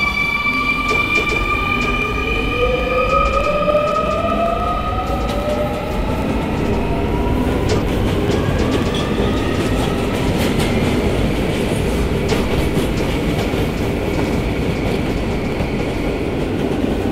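A simulated R220S 7 express subway train in a Roblox game runs along the track with a steady loud rumble, rising motor whine and rhythmic clickety-clack, continuous and close throughout.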